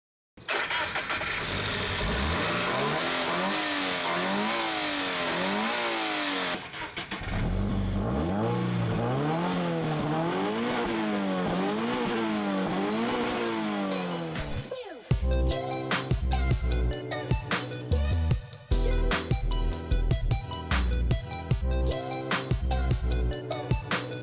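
A 2017 Subaru BRZ engine starts and is revved repeatedly in rising and falling sweeps, loud and close, before music takes over in the second half.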